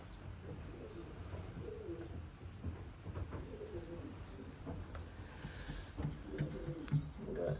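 Racing pigeons coo softly in a loft holding young birds and a Staff Van Reek pair, the low throaty calls repeating steadily and close over a muffled background of shuffling and rustle.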